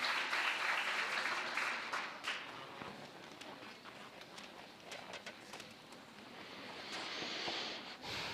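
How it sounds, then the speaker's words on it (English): Sustained applause from a conference audience welcoming a panel of speakers, steady dense clapping throughout that dips slightly midway and swells again toward the end. "A very strong applause again."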